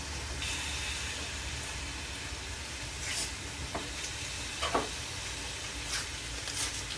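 Two tablespoons of butter sizzle steadily in a pot on low heat, a soft continuous frying hiss with a few faint crackles and pops, heard alone without talk.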